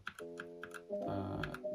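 Keystrokes on a Redragon Draconic K530 mechanical keyboard, a quick run of crisp clicks close by, with steady tonal music playing underneath.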